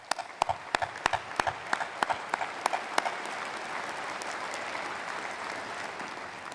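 Applause at the Oregon Institute of Technology 2019 commencement ceremony in Klamath Falls: a burst of sharp individual claps that quickly swells into dense, steady crowd clapping, with no talking over it.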